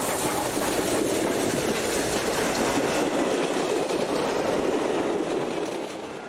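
Chinese QJ steam locomotive No. 6988 runs on the Iowa Interstate with Amtrak diesels assisting. It makes a steady, loud rolling rumble with a faint rhythmic clatter that fades slightly at the end, and no voices.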